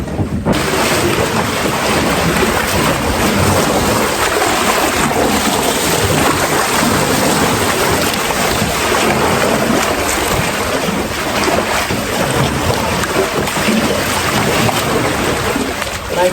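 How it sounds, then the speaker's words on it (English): Water rushes and splashes continuously around a packraft churning up little rapids in a pool, a loud, close, broadband wash with rough turbulent texture and no talk. "Making little rapids in my pool."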